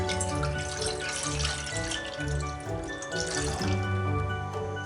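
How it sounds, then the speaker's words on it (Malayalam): Milk, 400 ml, pours steadily into a cooking pan with a continuous close liquid gurgle and splash lasting the whole stretch, with faint background music-like tones and no talking. "400 ml മിൽക്ക് ഞാൻ ഇതിലോട്ട് ഒഴിച്ചു കൊടുക്കുന്നുണ്ട്"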